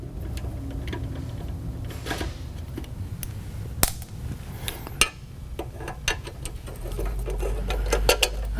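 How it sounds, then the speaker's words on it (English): A 7mm socket on a wrench undoes bolts on the back panel of an IMPACTS blaster. Close, dry mechanical clicks and ratcheting ticks come in sparse bursts over a low, steady background hum, with a few sharper metallic knocks. "We're going to go ahead and start with a 7mm socket, and we'll undo these bolts on this back panel."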